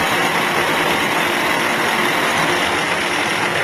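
A woodworking machine in a duduk master's workshop runs steadily on wood for the Armenian instrument, a continuous loud broadband whir and grind that holds without a break and without voices.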